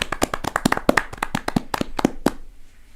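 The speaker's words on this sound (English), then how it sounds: "A round of applause" A few people clap in quick, irregular bursts for a couple of seconds, close and sparse rather than a large crowd, fading out.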